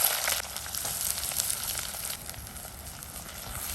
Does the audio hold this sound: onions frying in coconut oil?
yes